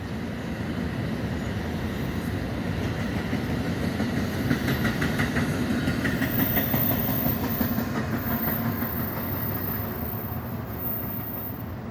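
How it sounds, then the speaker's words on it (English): A New Jersey Transit commuter train on the Northeast Corridor rumbles past under a bridge with a steady roar and faint rhythmic clacking of wheels, sustained throughout and fairly close. "New Jersey Transit going underneath that bridge"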